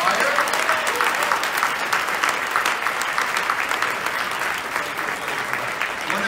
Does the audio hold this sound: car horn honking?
no